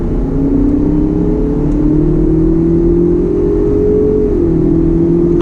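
A 2019 Ford Ranger XLT with its 2.3 liter EcoBoost engine accelerates hard from inside the cab, a loud, steady rising whir with a brief dip near the end.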